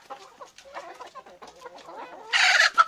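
A large native Philippine chicken clucks in a run of short, close calls, ending in a louder, harsher burst of squawking.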